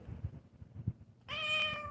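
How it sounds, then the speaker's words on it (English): A cat that dislikes being held cries out with a sustained, loud, tonal meow close up, after a stretch of low rustling and handling noise; no voices. "her mama cat came over to see why her baby cat was crying"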